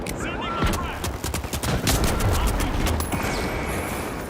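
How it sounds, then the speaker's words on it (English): A frag grenade going off in the video game The Finals amid heavy gunfire: rapid sharp shots in bursts, a loud booming blast around the middle, and a lingering rumble as the firing continues. "Frag grenade out. Sending the frag."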